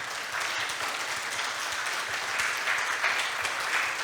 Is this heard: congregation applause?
yes